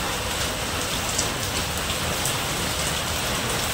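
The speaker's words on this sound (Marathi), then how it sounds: "आज सकाळपासून पाऊस पडतोय" Steady rain falling, a dense continuous patter close by with no talking.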